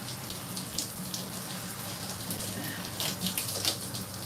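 Water runs steadily from a tap while burgundy box hair dye is rinsed out, a continuous hiss with faint splashing over it and no talking.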